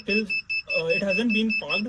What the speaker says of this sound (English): you may also hear this beeping sound that is happening in this parking system